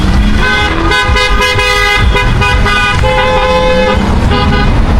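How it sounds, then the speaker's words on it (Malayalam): Cars in a Georgian wedding convoy, including BMWs, honk in a loud, overlapping chorus of close horn blasts that are held and repeated, over engine noise and with no talk. "ഹോണടിച്ച് പോകുന്നുണ്ടോ?"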